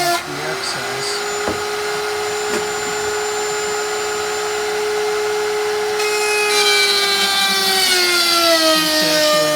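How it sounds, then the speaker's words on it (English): Table-mounted router trimming excess binding on a semi-hollowbody guitar body: a loud, steady high whine with a grinding edge that rises in pitch near the end as the cut finishes, close and continuous. "Routing off the excess."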